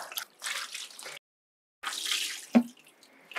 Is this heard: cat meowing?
no